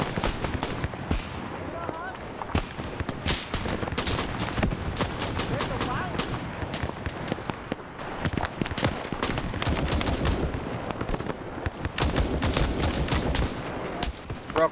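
Rapid gunfire bursts and single shots crackle nearly nonstop through a shooter video game set in the Rhodesian campaign, loud and dense, with a player talking over the shooting.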